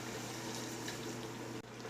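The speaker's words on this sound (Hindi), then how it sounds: "थोड़ा सा पानी ऐड कर दिया ताकि आलू हमारे नरम हो जाएं" Water is poured into a pot of fried potatoes and peas as a continuous splashing, sizzling rush close up, steady throughout and cutting off abruptly near the end.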